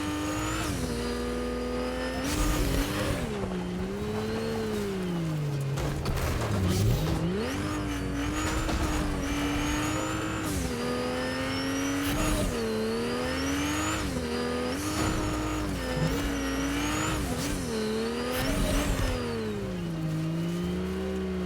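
Race cars in the Fortnite UEFN Racer Island video game roar continuously, engine pitch rising and falling through gear changes and corners, with occasional tire squeals, loud and unbroken.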